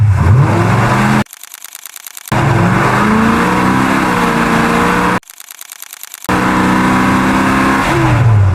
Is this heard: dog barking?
no